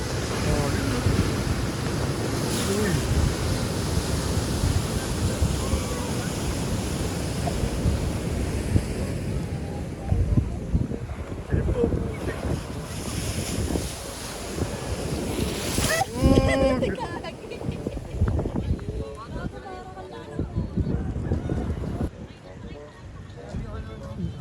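Surf breaks where a river meets the sea on the Ilocos coast, a loud continuous wash with heavy wind buffeting the microphone and people talking intermittently nearby.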